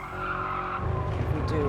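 A Toyota GR86 in Gran Turismo Sport skids with loud tire squeal over its engine note, the tone shifting midway as the car slides and recovers.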